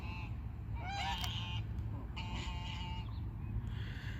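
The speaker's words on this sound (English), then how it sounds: "Anyway, geese, or as Patricia says, big ducks." Geese honk in several short, nasal calls in a city outdoor setting, over a steady low rumble of background noise.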